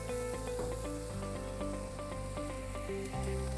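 Burgers sizzle on a backyard barbecue grill, a steady close hiss running the whole time beneath prominent background music.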